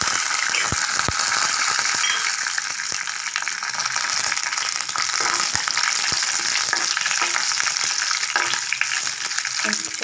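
Chana dal and dried red chillies fry in hot oil in a pan, giving a steady, dense sizzle with occasional sharp pops and crackles throughout, close and continuous with no talk.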